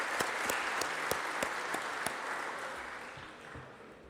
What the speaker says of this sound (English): So if I can have another round of applause for all of them.